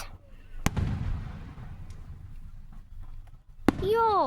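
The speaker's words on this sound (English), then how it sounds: "Big fireworks." Big fireworks going off outdoors: two loud, sharp booms a few seconds apart, with a lingering rumble and faint crowd noise, and a voice rising at the end.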